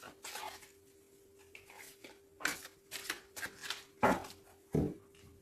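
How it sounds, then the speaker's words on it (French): A deck of tarot cards is shuffled and cut by hand in quiet, irregular bursts of papery riffling and slapping, close and fairly soft over a faint steady hum. "je vais essayer de faire une coupe déjà"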